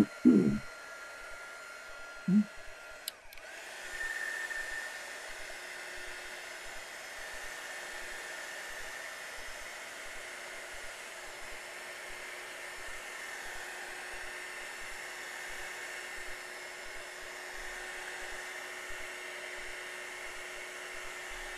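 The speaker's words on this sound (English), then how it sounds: "you won't be able to hear the dryer." A hair dryer blows steadily on a watercolor snow globe painting, a broad continuous whoosh running the whole time after a couple of brief bumps at the start.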